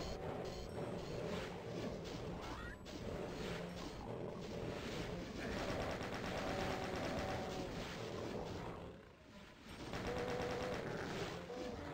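Rapid gunfire fills a Doom II level as the chain gun sprays at enemies, a dense continuous rattle of shots mixed with crashes and game sound effects, loud throughout with a brief dip near the end.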